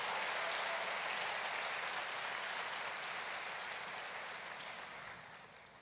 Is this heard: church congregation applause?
yes